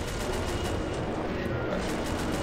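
Dense, continuous gunfire in Killing Floor 2 on the Research Center map, a steady wash of rapid shots and battle noise filling the whole moment at moderate level with no clear pauses.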